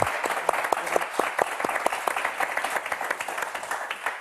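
Studio audience on a French word game show applauds warmly, many hands clapping in a brisk, fairly even rhythm, moderately loud with a faint voice beneath.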